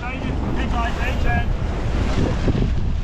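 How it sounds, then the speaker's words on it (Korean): Strong wind buffets the microphone at the Izmir seaside in Türkiye while rough waves surge and wash up nearby, a steady loud roar of gusts and surf filling the scene without pause. "바람이 세다 보니까 이게 무슨 파도 치면 물이 여기까지 올라와요"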